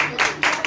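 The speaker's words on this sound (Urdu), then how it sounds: "آپ اپنے لیے زوردار تالیاں بجائیں" A church congregation bursts into applause in short, repeated swells of clapping, moderately loud and close, with no talking over it.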